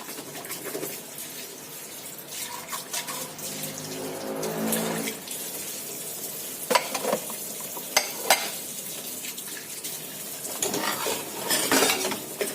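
Dishes and plates being washed with soap: clinking utensils and plates, scrubbing and running water, with sharper clatters of dishware knocking together at intervals, fairly quiet and close.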